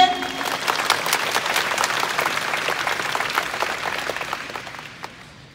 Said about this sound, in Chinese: 请大家给予杨凯婷同仁热烈的掌声。